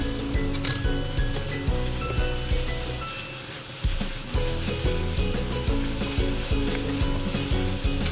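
Cabbage stir-fries in a pan for pancit canton with a loud, steady sizzle, while a utensil scrapes and clinks against the pan at a regular tossing rhythm.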